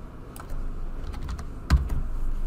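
Fingers type on a computer keyboard, entering a plotting command: scattered close keystrokes with a brief, louder burst of clacks near the end, and no voices.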